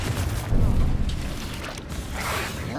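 A Confringo fire spell bursting in Hogwarts Legacy, a low booming blast with rumbling game effects and whooshes, loud and close over a short stretch.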